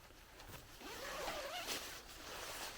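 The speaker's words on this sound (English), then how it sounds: "So if you unzip the bag" A pop-up toilet tent's storage bag being unzipped, one close, fairly quiet zipper pull rasping along for about two seconds, with no talk.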